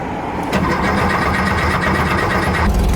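A 1968 Volkswagen Baja Bug's engine cranks and catches, jumping abruptly into a loud, close, rough idle that continues steadily and swells slightly near the end.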